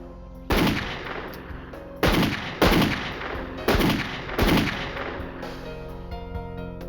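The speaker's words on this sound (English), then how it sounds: "What you shooting for?" Five loud gunshots ring out one after another at uneven intervals, each a sharp blast with a long echoing tail, followed by quiet.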